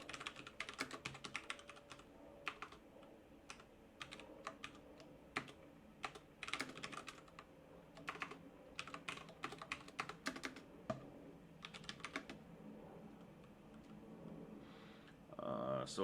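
Keystrokes on a computer keyboard as code is written during a lecture, coming in irregular bursts of clicks with short pauses between them, heard alone without any talking.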